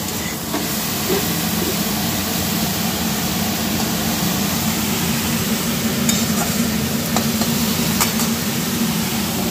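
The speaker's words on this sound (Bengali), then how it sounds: "ইঁচড়টাকে আগে লবণ হলুদ দিয়ে একটু ভেজে নেব।" Raw jackfruit frying with salt and turmeric, a steady close hiss of sizzling oil that runs without a break, with a low rumble beneath and a few faint clicks.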